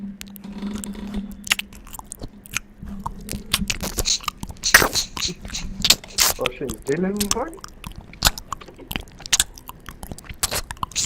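A man mimics the wet chewing, crunching and biting noises of an ASMR mukbang eater with his mouth in a few close, uneven bursts, while he and others talk and laugh loudly around the imitation.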